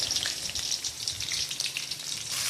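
A single onion fries in a pan, giving a continuous crackling sizzle that stays close and fairly even with no talk over it.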